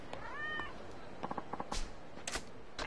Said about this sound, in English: I heard a cat, but I don't think you can pet cats in this game.